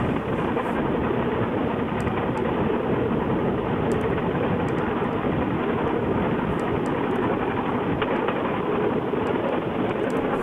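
A bamboo cart rolls along the rough, poorly kept tracks of Cambodia's bamboo railway, giving a steady, loud broadband rumble and clatter that runs the whole way through with no talking.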